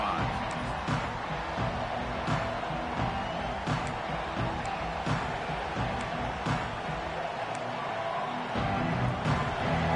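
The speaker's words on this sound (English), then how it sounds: "this home crowd is fired up and ready to make a difference today" Home crowd cheering at a football game, a continuous, loud, dense roar of voices with scattered claps and sharp accents throughout, sustained across the whole stretch.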